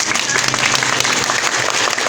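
A classroom group uses their hands to imitate rain easing off, a continuous close patter of many clapping hands, still dense and fairly loud, holding steady without voices.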